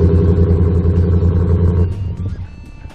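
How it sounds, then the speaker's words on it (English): A Roush supercharged 5-liter V8 in a 2019 Ford F150 idles loud and close with a deep, lumpy burble, then eases back and settles lower toward the end. "On my right here, we have our Roush 5-liter."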